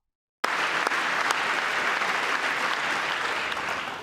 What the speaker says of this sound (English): Look at the slow clap on the left side of the aisle.